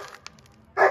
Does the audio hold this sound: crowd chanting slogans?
no